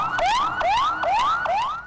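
An ambulance siren wails in repeated rising sweeps, steady and loud, stuck in traffic after a rally in Lahore.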